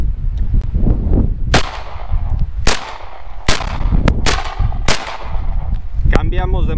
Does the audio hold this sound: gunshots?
yes